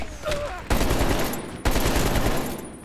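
Gunfire in Call of Duty Black Ops Cold War: loud, dense bursts of automatic fire with two sharp onsets, sustained and close, with a brief tonal whistle before the first burst.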